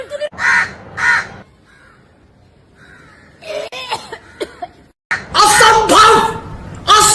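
Crow cawing in bursts, loud and close, with repeated harsh calls at the start and a denser flurry of caws near the end, separated by quieter gaps.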